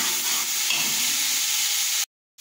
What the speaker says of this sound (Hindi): लहसुन को हमने 2 से 3 मिनट के लिए भूनना है